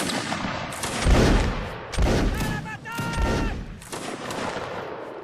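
Musket volleys in a Napoleonic Wars battle in Mount & Blade, with several loud overlapping bursts of gunfire rolling through dense crackling shots and a voice calling out in between.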